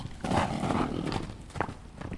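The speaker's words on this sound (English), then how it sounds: "The Suffolk Punch, or as I like to call it, the built Ford tough horse of RDR2." Suffolk Punch draft horse in the video game Red Dead Redemption 2, its hooves clip-clopping in an irregular series of moderately loud thuds with a soft rustling background.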